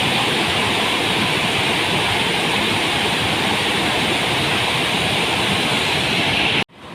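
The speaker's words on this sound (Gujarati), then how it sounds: "પછી પાણી આવે ને એનો અવાજ આવે" Water from the overflowing Shetrunji dam near Palitana pours in a loud, steady, broadband roar, close and continuous, then cuts off abruptly at the very end.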